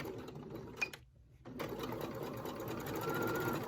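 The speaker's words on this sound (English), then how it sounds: "Then I'm going to top stitch it." A sewing machine topstitches a seam on a swimming rash guard, a close whirring run broken by a brief stop before the motor starts again and hums steadily to the end.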